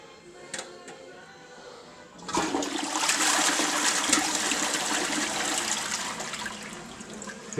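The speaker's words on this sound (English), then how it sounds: "So this is an Australian toilet installed in the United States." An Australian toilet installed in the United States flushes, starting quietly with a few small clicks, then a loud rushing gush of water that swirls steadily and trails off toward the end; no talking.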